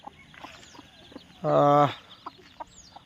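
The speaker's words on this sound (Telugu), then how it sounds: "ఇది ఇది ఇంకో కోడి" A hen lets out a loud, drawn-out cluck in the middle, surrounded by softer scattered clucks and chirps from a flock nearby.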